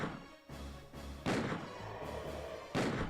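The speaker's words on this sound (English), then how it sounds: "I'm gonna shoot you right in that big pulsating thing." Heavy gunshots in Resident Evil 2: three loud booming shots spaced about a second and a half apart, each with a short echoing tail, set against a dull rumbling background.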